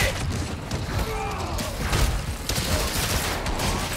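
Gunfire in the Spider-Man Miles Morales video game crackles in dense, overlapping bursts amid mechanical clanks and creaks, loud and busy throughout the scene.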